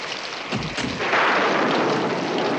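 Heavy rain falls in a steady broadband hiss, with a low rumbling thump early on before the downpour swells and continues loudly with no voices.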